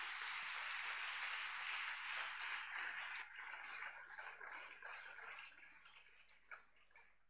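Church congregation applauding and cheering in praise of Jesus during a worship service, a dense wash of clapping that starts loud and full, then thins after a few seconds into scattered claps with a few sharp individual ones near the end.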